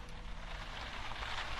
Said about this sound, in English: Rain falling past the bedroom window.